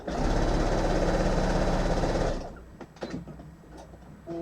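A sewing machine stitches quilt binding in a fast steady whirring run for about two seconds, then stops, leaving small handling clicks and rustles.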